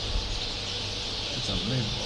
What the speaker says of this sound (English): that noise you can hear, thousands of little birds all in that tree.